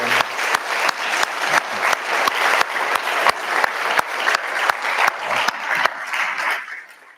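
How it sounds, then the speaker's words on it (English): A round of audience applause with loud, rhythmic clapping from a live crowd, sustained for several seconds before tapering off at the end. "Let's give him one more round of applause."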